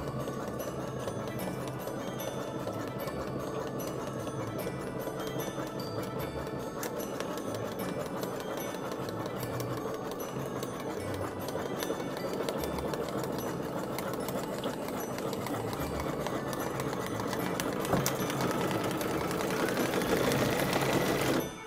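A computerized embroidery machine bead-stitches a card design through cardstock, base fabric and silver Mylar. It makes a steady, fast mechanical rattle and whir that runs for the whole stretch, close and moderately loud, with no talking.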